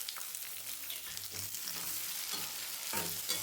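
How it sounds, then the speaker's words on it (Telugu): Chopped onion and green or dried chillies fry in a pan for a village-style dal with spinach and mango, giving a steady close sizzle with a few stirring scrapes, no speech. "ఇవి కూడా కొద్దిగా వేగాలి."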